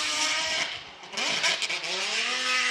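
A Formula Drift car slides through a 2022 competition battle run, its engine revving hard with harmonic whine that dips, then climbs again with tire noise, loud and close.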